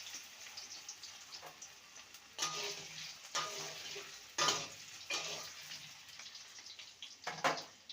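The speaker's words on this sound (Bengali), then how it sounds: "কড়াইতে সর্ষের তেল দিয়ে দিয়েছি এবার আলুগুলোকে ভেজে নেবো" Potatoes fry in mustard oil in a wok, giving a steady sizzle with bursts of stirring and scraping that swell at intervals, close and fairly quiet, with no voices.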